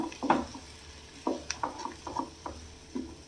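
A spoon stirs soaked puffed rice around a pan, giving a few soft, close scraping and clinking strokes spaced unevenly over a few seconds against a quiet, faintly humming kitchen.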